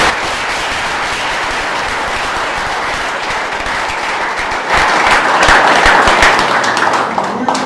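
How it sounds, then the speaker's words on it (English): Sustained applause from a student audience at a debate between sheriff candidates, loud and continuous, swelling in the second half. "please give both candidates a round of applause."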